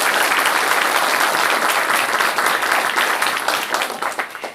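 A stand-up comedy audience applauds a comedian, loud and sustained dense clapping that thins slightly toward the end.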